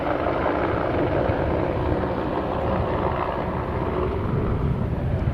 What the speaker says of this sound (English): can't exactly tell what that helicopter is for